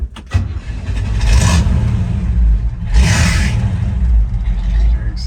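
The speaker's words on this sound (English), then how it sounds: "So we'll start the old Chevy up" A 1971 Chevrolet K10 pickup cranks and fires, then settles into a loud, close, rumbling idle with two bursts of revving that swell and fall back.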